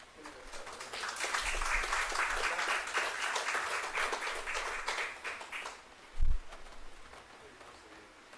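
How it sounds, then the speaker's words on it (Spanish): Applause from an audience at a book launch welcoming a speaker, a burst of clapping that rises quickly, holds steady for several seconds and then breaks off abruptly, leaving a quieter room with a brief low thump afterward. "La recibimos con un fuerte aplauso."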